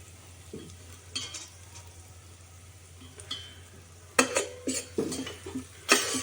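A pan of tempering with cumin, garlic and red chili powder sizzles softly in the background while a spoon scrapes and clinks against the metal in several sharp, close bursts, with no talking.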